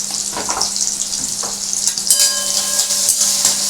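Onions sizzling and frying in a pan for a Bengali spicy fish curry, a steady bright crackle with occasional stirring scrapes, heard up close with no talking.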